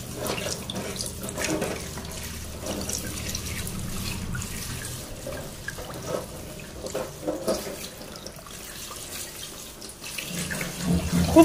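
Water runs from a tap into a basin in a continuous splashing stream that shifts slightly in texture over time, heard alone with no one speaking.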